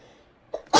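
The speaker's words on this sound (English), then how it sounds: "I had to sneeze." One close, sudden human sneeze, a short indrawn breath followed by a loud burst of air, in an otherwise quiet room during a makeup routine.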